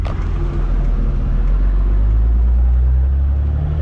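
A 12-valve Cummins diesel in a smoky hotshot truck with an oil-leaking injector pulls away. Its deep, steady engine rumble stays loud and close the whole time, with no voices over it.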